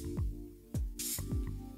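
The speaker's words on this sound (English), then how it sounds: "Let's give it a bit of a spray." Short bursts of perfume spraying from an atomizer bottle: a bright hissing spritz about a second in, with a few quieter puffs around it, close and fairly loud.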